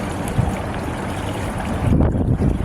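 Steady wind roaring across an open microphone, a dense broadband rush with gusts swelling louder near the end, no voices.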